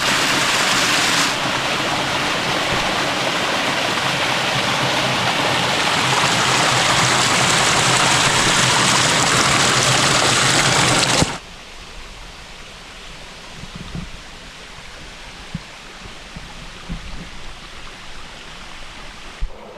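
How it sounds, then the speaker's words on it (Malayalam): A forest river rushes over rocks in a dense steady roar for about eleven seconds, then drops abruptly to a much quieter, sparser trickle with a few small knocks. "നമുക്ക് ഇവിടുത്തെ പുഴയുടെ കുറച്ച് ശബ്ദങ്ങളൊക്കെ കേട്ടാലോ"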